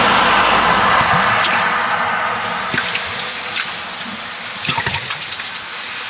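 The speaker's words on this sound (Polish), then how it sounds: "Polewam wodą cały czas. Staram się tam do bębna dostać." Water poured continuously over an overheated, smoking car brake drum at the roadside: a steady loud rushing splash with scattered spatters and drips throughout, and no talking.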